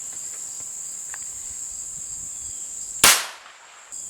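One loud, sharp gunshot from a Glock 19 firing a 9mm hollow point round cracks outdoors over a steady drone of crickets, its report fading quickly afterward.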